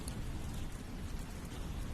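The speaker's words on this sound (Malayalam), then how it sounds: "പുറത്ത് മഴയുടെ ശബ്ദം മാത്രം കേട്ടു." Steady rain falls outside, a soft, even hiss of drops on surfaces with a faint low rumble underneath, constant throughout with no voices.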